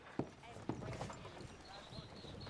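Horse hooves clip-clop in Red Dead Redemption 2, a few distinct hoof strikes near the start and a softer, irregular pattern after, faint and partly under a man's speech.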